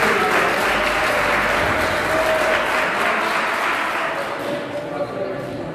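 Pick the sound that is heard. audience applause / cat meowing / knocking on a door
audience applause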